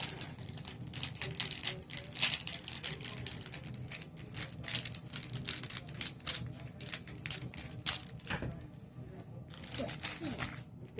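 Scissors cut into a package with rapid crisp snips and crinkling plastic, close up, while people talk over it.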